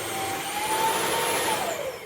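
A Bissell CrossWave OmniForce cordless wet-dry vacuum runs at minimum power, a steady airy whirring drone with a faint whine, close and continuous throughout.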